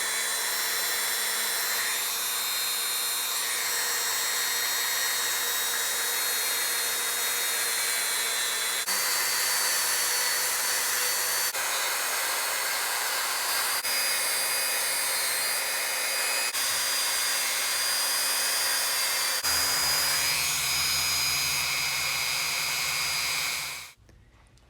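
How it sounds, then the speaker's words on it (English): A Dremel spinning a wire brush whines steadily and loudly up close as it scrubs carbon and solder buildup off a throttle cable end, with slight pitch shifts under load before cutting off at the end. "I got out the Dremel, put a wire cut brush on there, and got to work just kind of cleaning off all the carbon"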